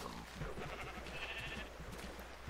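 Blocky sheep in the Minecraft video game bleat in short repeated calls over a low steady background hum, fairly close and moderately loud, with no talking.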